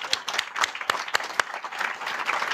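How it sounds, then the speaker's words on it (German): An audience gives a short round of applause at a German stage event, with uneven, sharp individual claps from a modest crowd that stays fairly quiet overall. "Erstmal einen großen Applaus."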